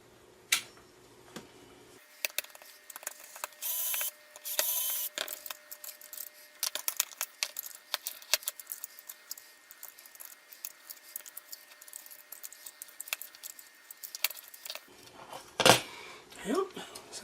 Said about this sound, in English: a couple more screws.